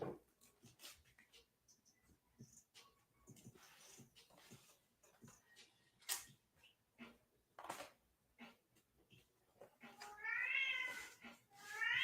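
A cat meows near the end in a couple of rising, wavering cries, preceded by faint scattered shuffling and rustling sounds in a quiet room.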